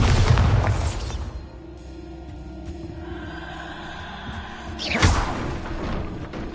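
A Bombarda blasting spell goes off in Hogwarts Legacy, opening with a loud, heavy boom that fades into a rumbling tail and a lingering tone. A second, sharper burst follows near the end.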